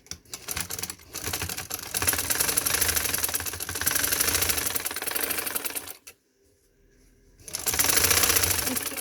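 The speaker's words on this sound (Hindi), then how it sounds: "अब मैं इसके ऊपर सिलाई लगाती हूँ, इसको हम सेट कर लेते हैं।" A sewing machine stitching piping onto a fabric neckline runs in a fast, steady mechanical rattle, close and loud, stops briefly for about a second, then starts stitching again.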